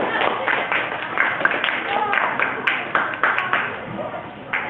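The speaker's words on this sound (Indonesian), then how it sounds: "Iya, bagus. Tepuk tangan." Students in a classroom give a short round of hand clapping, a steady patter of many claps mixed with voices talking over it.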